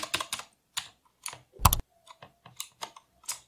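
Ajazz AK33 mechanical gaming keyboard keys struck roughly and irregularly, close and loud, in uneven bursts of clacky presses separated by short pauses.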